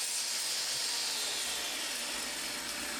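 A Bosch saw with a 216mm blade rips through wood strips in one continuous, loud, steady cut, a high whining grind held close up for the whole stretch with no break.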